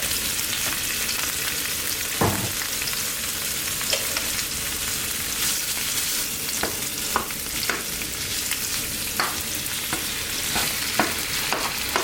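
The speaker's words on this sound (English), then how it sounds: "And then I'm gonna go in with the turkey." Turkey browning in a hot pan for a keto meal, frying with a steady dense sizzle and occasional stirring clicks and scrapes, close and continuous throughout.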